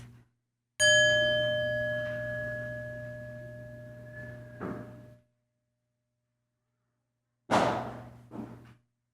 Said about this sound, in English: allowing the sound of the bell to penetrate us